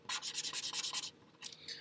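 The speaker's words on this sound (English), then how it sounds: "So I'm going to draw a hammer, if I can." Pencil or pen strokes scratch rhythmically across paper while a hammer is drawn, a quick run of about a dozen close, even rubs, a brief pause, then a few more strokes, with no talking.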